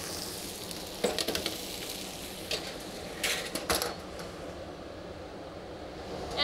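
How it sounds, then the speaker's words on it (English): Steak set fat side down in a hot pan sizzles steadily as the fat renders, with a few louder crackling bursts rising above the constant close frying hiss; no one speaks. "I like to start it on the fat side first so that that fat sort of sizzles and renders off"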